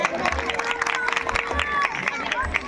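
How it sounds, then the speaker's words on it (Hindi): An audience claps and cheers for a child at an outdoor Ramleela stage performance in Muzaffarnagar, a dense crowd patter of applause mixed with background chatter. "ठीक है, जोरदार ताली इस बच्चे के लिए"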